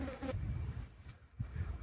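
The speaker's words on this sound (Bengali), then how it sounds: "মাছি ডিস্টার্ব করতেছে, যেখানে যাই সেখানেই মাছি" Close insect buzzing from flies swarming around water machines on a farm, wavering in pitch as they circle near and pull away, faint and soft with no talk over it.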